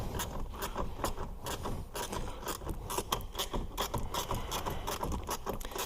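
Socket wrench ratcheting a bolt loose from the top deck of a Sea-Doo Spark personal watercraft, rapid irregular clicking and scraping strokes close by, fairly quiet, no talk.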